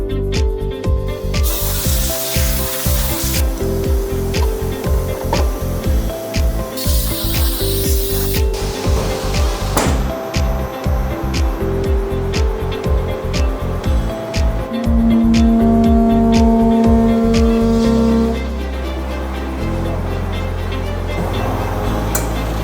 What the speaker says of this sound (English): We will use this vibration welding machine to seal it up.